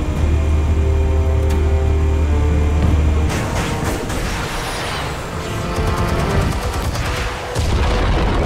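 Explosives detonating in the Batman Telltale video game, a heavy boom and crash after a low steady hum, followed by scattered cracks and rumbling debris at loud volume, without any speech.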